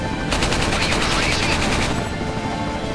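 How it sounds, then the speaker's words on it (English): Sustained automatic gunfire in Resident Evil 4, a loud, fast rattle of shots filling most of the stretch before trailing off into background game noise. "I love shooting him and getting him to say that."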